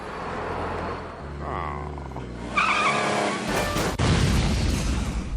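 A cartoon car driven badly by Peter Griffin in Family Guy: engine roar building into loud tire squeals and skidding screeches, followed by a sharp jolt and continued rough, noisy motion.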